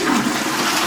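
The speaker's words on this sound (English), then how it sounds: "Another test flush." A toilet is flushed during a test, giving a loud, close rush of swirling water that stays strong through the whole short burst.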